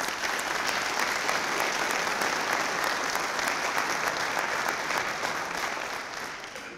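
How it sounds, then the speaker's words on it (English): Audience applause fills a police awards ceremony, a dense, steady wash of many hands clapping at an even level throughout, fading slightly at the very end. "I'd like a round of applause for all of these people"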